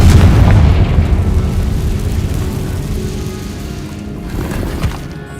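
Confringo spell explosion in Hogwarts Legacy inside an abandoned mine cave: a loud, heavy boom at the start that rumbles and slowly decays into a low echoing tail, with no speech.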